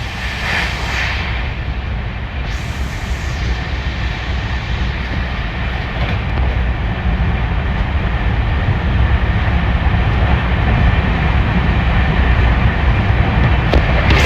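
A train heard from aboard rumbles along the tracks with a loud, steady roar and rattle that builds slightly over time; no talking.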